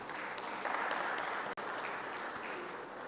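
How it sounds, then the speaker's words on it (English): Conference attendees at a Tanzanian ICT event applaud the moderator and presenters, a steady, fairly faint wash of clapping lasting a few seconds with a brief dropout midway. "A round of applause to the moderator and presenters"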